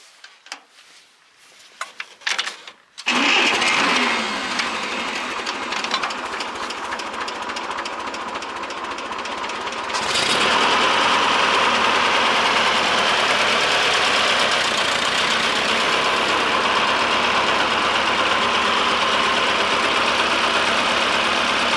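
Ferguson TO-30 tractor engine cranking and catching after a few quiet seconds, then settling into a loud, steady idle that grows fuller and louder partway through and runs unbroken to the end.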